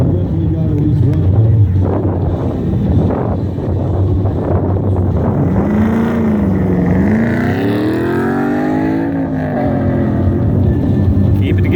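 A pro touring truck running an autocross course, its engine note rising and falling through the slalom with wind buffeting the microphone, heard from nearby under a spectator's talk.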